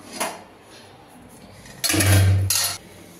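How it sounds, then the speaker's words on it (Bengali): Plates and a wok being washed: a sharp clink, then a loud metallic clatter and scraping of dishes for about a second, close by, followed by quieter handling. "এই থালাটা এগুলো সব ধুই দিই"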